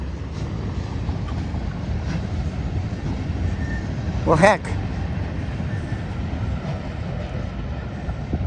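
A short westbound freight train rolls along main track number 2 at Sullivan's Curve, a steady broadband rumble throughout with a brief shrill chirp midway; someone speaks briefly.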